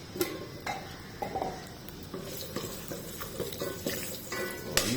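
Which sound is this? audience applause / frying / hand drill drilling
frying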